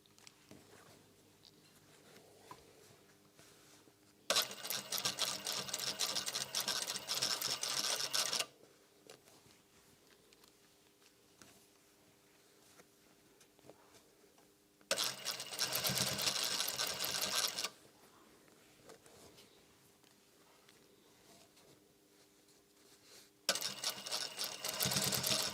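A sewing machine stitches a pleated face mask in three bursts of fast, loud mechanical whirring, each a few seconds long, separated by quiet pauses with faint handling sounds.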